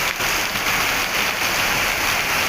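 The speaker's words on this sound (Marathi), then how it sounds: "बघा किती पाऊस आहे" Downpour of heavy Kerala monsoon rain hammers steadily nearby, a thick unbroken patter on surfaces, loud and alone without voices.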